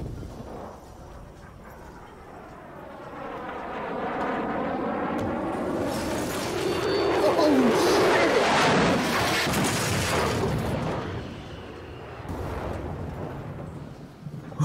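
In the survival video game The Forest, a passenger plane crashes with a swelling roar and rumbling turbulence that builds over several seconds, then debris-like impacts and a fading rush, without spoken words.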